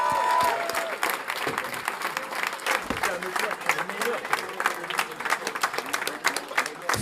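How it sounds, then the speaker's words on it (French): Crowd at a hackathon winners' announcement claps for the jury members, a patchy, moderate applause with individual claps standing out while voices talk over it and a brief tone sounds near the start. "Avec les différents membres du jury, on peut les applaudir très fort."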